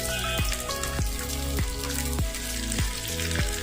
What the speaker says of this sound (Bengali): আমটা দিয়ে সরিষার তেলের সাথে একটু ভেজে নিচ্ছি